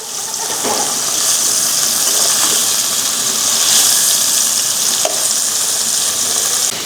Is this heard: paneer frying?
yes